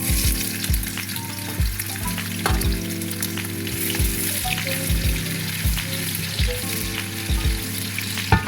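Onions frying in the oil left over from frying fish, for coconut rice, with a strong, continuous sizzle and regular clunks and scrapes from stirring close by.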